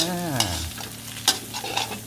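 Egg being stir-fried with papaya in a pan, with a soft sizzle and a few sharp scrapes of a utensil against the pan.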